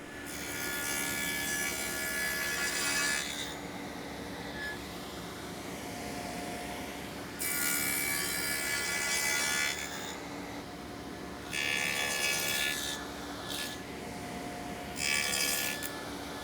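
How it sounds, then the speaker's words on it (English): A table saw blade cutting a tenon in wood for an Arts & Crafts settee, a loud, steady, close whine broken by several bursts of harsher cutting noise as the blade passes through the board. "So we're going to make that cut, and same setup, and then we're going to raise our blade up until we get that tenon to fit nicely into our leg"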